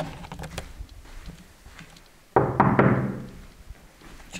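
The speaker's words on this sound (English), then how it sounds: "Can you knock on the door?" Knocking on a door inside a reputedly haunted former insane asylum, a few sharp raps sounding nearby over a hushed room, followed by a louder broadband rustle or thump in the second half.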